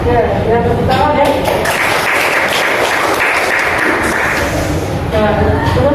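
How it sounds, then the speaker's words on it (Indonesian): A room of students claps together in sustained, loud applause after a group presentation in a classroom, steady dense clapping for several seconds with voices mixed in near the start and end. "ya tepuk tangan ya."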